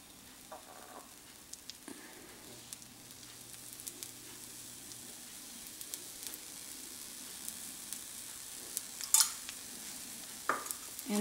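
Oil sizzles quietly in a pan as a whole green gram dosa fries, a soft continuous crackle with scattered small pops and a few scrapes, steady and fairly faint throughout.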